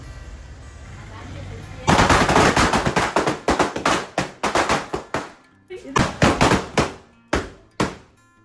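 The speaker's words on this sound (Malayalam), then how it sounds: "ഇന്നത്തെ പടക്കം പൊട്ടിക്കൽ താൽക്കാലികമായി ഞങ്ങളിവിടെ അവസാനിപ്പിച്ചിട്ടുണ്ട്" A rapid string of loud firecracker bursts during Vishu celebrations, sharp bangs popping in quick irregular succession close by, with brief pauses between clusters.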